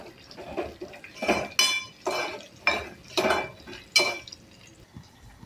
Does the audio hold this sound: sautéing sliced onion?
yes